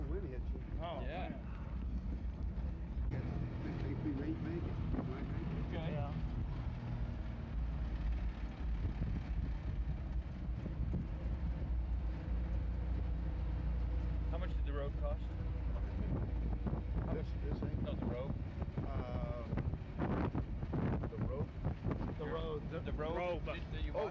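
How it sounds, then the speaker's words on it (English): Outdoor wind buffeting the microphone as a steady low rumble through the whole stretch, with people talking over it. "Can't hear anything with this wind in the"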